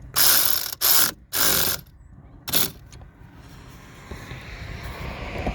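Ratchet wrench tightening the fitting on a battery isolation switch, four loud close bursts of rapid clicking, the first three back to back and a shorter one after a pause, then a quiet hum of background noise.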